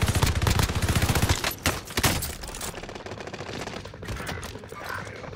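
Rapid gunfire in the video game Call of Duty Warzone, dense bursts loud at first, then a continuing fainter rattle of shots with no talk.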